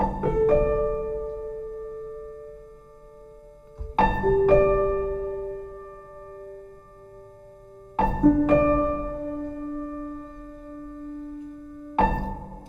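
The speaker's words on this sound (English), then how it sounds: "if I just play a single key and we're on the preset called the thinker, it sounds like this." UJAM Virtual Pianist SCORE on the Thinker preset, a single held key triggering a tempo-synced piano phrase: sparse, resonant chords struck every four seconds, each ringing out with sustained decaying notes, quiet and alone.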